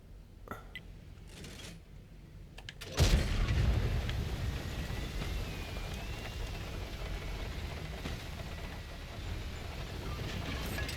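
Heavy artillery and tank cannon fire in a World of Tanks-style tank battle game featuring the FV215B: a loud boom at about three seconds gives way to a dense, rumbling, rain-like roar of continuous gunfire that persists to the end.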